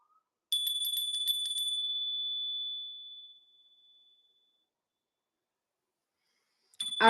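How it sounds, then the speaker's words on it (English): A single bell rings out with a clear, bright tone that sustains and slowly fades over about three seconds, followed by silence and then a brief noisy thump at the end. "gonna ring the bell"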